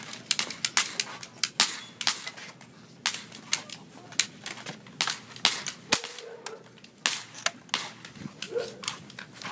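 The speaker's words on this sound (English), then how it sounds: "looks like we're in the middle of the shooting" Gunfire in a staged shooting scene: a rapid series of sharp, dry pops and cracks, some in quick bursts, loud and close over a quiet background.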